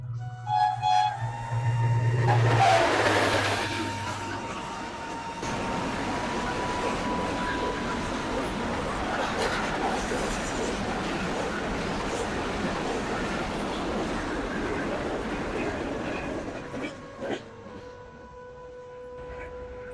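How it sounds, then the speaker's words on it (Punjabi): A train passes along a track near an old rural site in Punjab, beginning with a loud horn blast and then a long, steady rolling rumble of wagons that slowly fades. "ਤੇ ਟ੍ਰੇਨ ਵੀ ਆ ਰਹੀ ਹੈ ਇੱਧਰੋਂ"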